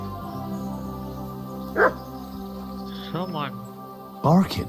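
A dog in the video game Kingdom Come: Deliverance 2 barks three times at spaced intervals, short and moderately close, over a steady humming musical backdrop.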